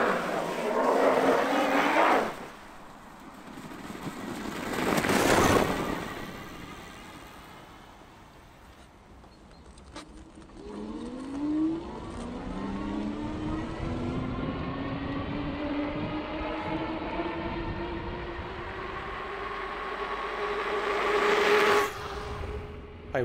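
A 3000W e-bike converted from an Engwe M20, with fat tires, rides on snowy roads, its motor whine rising and falling in pitch as it accelerates, with louder whooshing passes of nearby traffic and wind.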